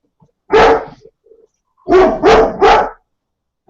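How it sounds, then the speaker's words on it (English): A dog barks at someone at the door: one loud close bark, a short pause, then three quick barks in a row, with quiet moments between. "Is he barking like that?"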